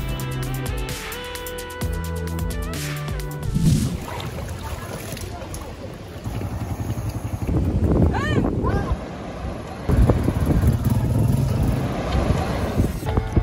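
Strong wind buffets the microphone beside the rushing Daraitan River in Rizal, gusting loudly while a voice talks over it.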